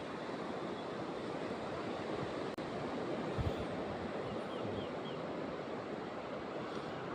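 Waves washing on a seashore at high tide in the morning, a steady distant surf wash with wind noise on the microphone, one brief click midway, no voices.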